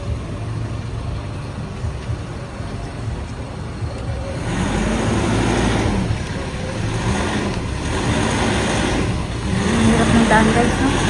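A car engine rumbles and the noise swells as the vehicle maneuvers slowly into a parking spot in Baguio, Philippines, with voices talking in Tagalog over it.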